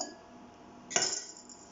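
A utensil clinks against a bowl while hot milk is stirred into egg yolks for a banana crème brûlée, one sharp clink followed by a short stretch of light scraping and stirring, close and soft.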